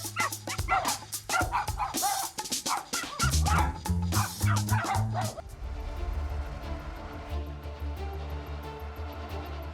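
Three small dogs bark and yip in a rapid, excited burst with some whimpering, loud and close for the first few seconds, then fading to quieter background noise.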